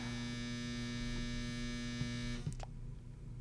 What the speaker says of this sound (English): There's our dryer again.